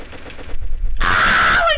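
Sustained LMG fire in the Roblox shooter Framestore, a loud continuous burst of rapid shots that kicks in partway through after quieter scattered gunfire.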